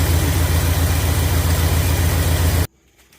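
A 1976 Ford F-150 Ranger engine idles in a steady, loud, low rumble close by, then cuts off abruptly into near silence.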